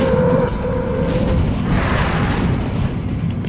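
Gunfire in the video game XCOM: Enemy Unknown, a dense, loud, continuous burst of booming shots with heavy low rumble throughout, no talk.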